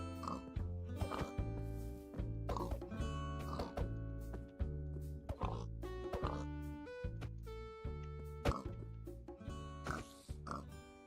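Pigs in a video game give repeated short oinks and grunts in an uneven rhythm, fairly quiet, with game music tones and no talking.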